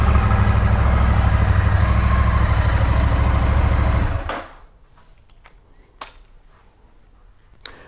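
A Royal Enfield Shotgun 650 motorcycle engine idles loudly and steadily nearby with a low, even throb, then shuts off abruptly, leaving a quiet room with a few faint clicks and taps.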